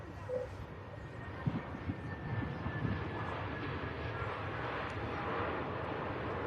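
A Pegasus Airbus A321neo touches down at Manchester Airport, heard from a distance as a faint, steady engine rumble with soft wind noise and a few light thumps.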